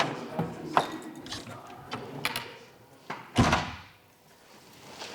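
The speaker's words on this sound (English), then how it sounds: "I'm going to close the door a moment." A door being closed in a lecture room during a physics talk, a sharp thump near the middle of the clip after a few softer knocks and shuffles, with faint room noise around it.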